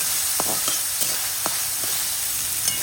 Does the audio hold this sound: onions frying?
yes